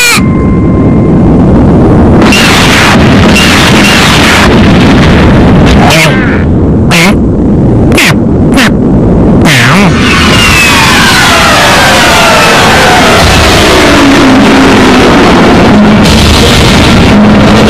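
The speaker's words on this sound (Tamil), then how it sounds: "எல்லா இடத்துலயும் எரிமலைங்க வெடிச்சு சதறிக்கிட்டு இருக்கு." Volcanoes erupt all around in a stone-age cartoon, with loud rumbling blasts and booming explosions that roll on continuously, and characters speaking over the din.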